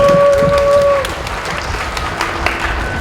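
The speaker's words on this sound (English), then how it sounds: "give him a round of applause because he's a really lovely guy" A crowd claps at an outdoor Straight Pride Parade rally in Boston, loud applause that starts strong and then thins to scattered claps, with a sustained tone and murmuring voices underneath.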